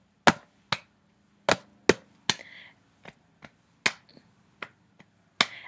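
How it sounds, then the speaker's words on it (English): A single person claps out an uneven rhythm in a quiet room, about eleven sharp, close claps with short and long gaps between them, each decaying quickly into silence. "I could have the students clap along and be like,"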